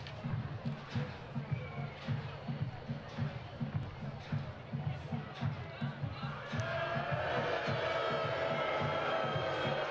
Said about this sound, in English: Enzo Martinez hearing it from the local crowd every time he touches the ball